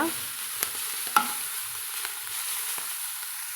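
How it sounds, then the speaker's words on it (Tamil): Manathakkali greens sauté in a pan for chutney, giving a soft, steady sizzle with a few sharp spatula scrapes and taps scattered through, close and fairly quiet, no talking. "இது போல் ஒரு ரெண்டு நிமிஷம் வதக்கினாலே நம்மளுக்கு நல்லா சுருண்டு வந்துடுங்க"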